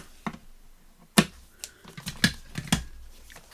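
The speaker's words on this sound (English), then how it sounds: "pull each end to tighten it up, trim off the ends" Scissors snip the loose ends off knotted twine at a craft table during junk journal making, giving several short, sharp, close clicks spaced irregularly over a few seconds.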